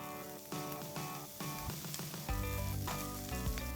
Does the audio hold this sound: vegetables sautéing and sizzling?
yes